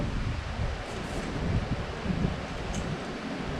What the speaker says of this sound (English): Man, it is so windy out here today.